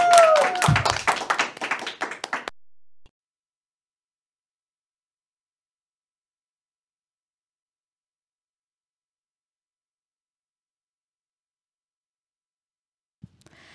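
A small studio audience at a Catholic talk show gives a brief burst of close, lively clapping that stops abruptly after about three seconds, followed by silence.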